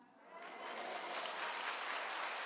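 Audience applause during a testimony about rescuing North Korean defectors in China, a soft, distant wash of clapping that swells quickly and holds steady.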